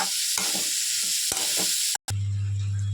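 Carrot and vegetables frying in a pan for pasta, a loud steady sizzle with repeated scraping stirs, cut off abruptly and followed by a low hum.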